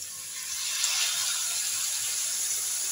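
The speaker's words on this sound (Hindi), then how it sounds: "हाफ कप के करीब हम इसमें शामिल करेंगे पानी" Water poured into a cooking pan while making a potato chicken kabab stuffing, a steady close hiss of flowing liquid lasting the whole stretch with no talk.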